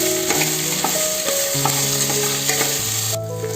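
Ginger garlic paste sizzles steadily in a hot pan with occasional stirring scrapes, over a sustained tonal background sound, fairly loud and continuous.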